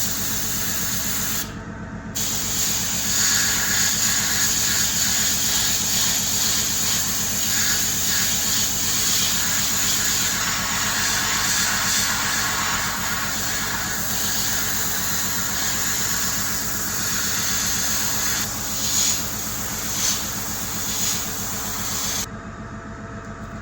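An airbrush sprays brown paint onto the cargo bed of a 1/35 scale Scammell Pioneer R100 model. It makes a steady, close hiss that cuts out briefly near the start and stops again near the end, with no talking.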